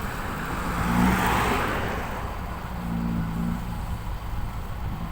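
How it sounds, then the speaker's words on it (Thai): A heavy Hino dump truck engine rumbles and roars nearby, swelling louder then easing off, with a gritty exhaust growl and no talking. "โอ้โห ฮีโน่หน้ายักษ์ครับ"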